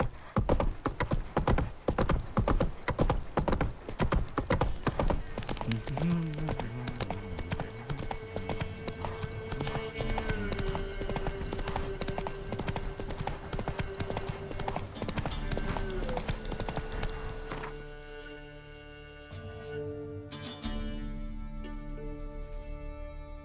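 Roach, a horse in The Witcher 3, clip-clops in a steady, close hoof rhythm over continuous game music, with a brief whinny-like squeal partway through; the hoofbeats fade out near the end, leaving only music.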